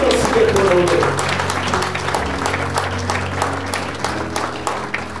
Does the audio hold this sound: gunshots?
no